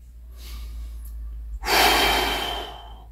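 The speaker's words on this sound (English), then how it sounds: "And then exhale." A single long, forceful exhale while holding a plank, a breathy rush of air up close after a faint earlier breath, over a low background hum.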